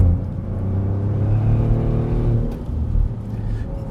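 A Maserati GranCabrio Trofeo convertible's engine in Corsa mode gives a loud, steady, deep rumble from inside the car, holding a rich low drone throughout with no voices.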